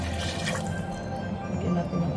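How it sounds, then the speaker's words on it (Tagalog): Water pours steadily into a soup pot of Filipino sopas with cabbage and Knorr powder, a constant close splashing and trickling. "Dagan natin ang tubig."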